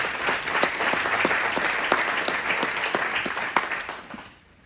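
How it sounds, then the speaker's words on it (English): An audience at a building-dedication talk gives itself a round of applause, a fairly loud, even wash of many hands with a few sharp individual claps, tapering off abruptly at the end. "Please give yourselves a round of applause."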